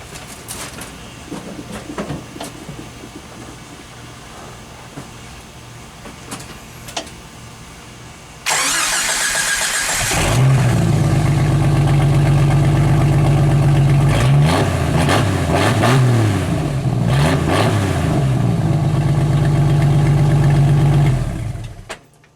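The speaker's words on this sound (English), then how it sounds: "Alright, we'll go turn the key on." Jeep Wrangler YJ with its exhaust removed from the cat back and no muffler fitted: the starter cranks briefly, then the engine catches and idles loudly and roughly for about twelve seconds.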